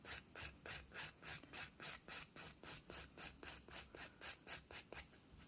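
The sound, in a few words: filing hard gel nail extension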